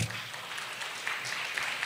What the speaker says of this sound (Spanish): Y dele fuerte el aplauso al Señor.